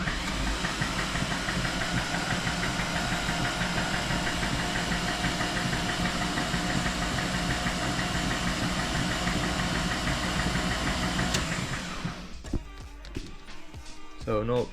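A Mazda Miata with a swapped-in five-cylinder engine on polyurethane mounts runs at a steady, loud, close idle with a knocking rumble, then cuts off abruptly near the end.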